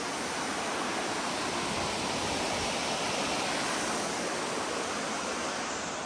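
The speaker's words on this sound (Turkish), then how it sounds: "Ya işte küçük küçük şelaleler en büyüğü o ilk başta gördüğümüzdü." Small waterfalls at Erfelek give off a steady, even rush of falling water, a dense continuous roar with no breaks and no voices.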